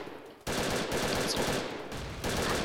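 Rapid pistol gunfire in the blocky online shooter Brick Force on a custom Counter-Strike-style map, a dense string of loud close shots starting abruptly after a brief quiet moment, with a short pause before firing resumes.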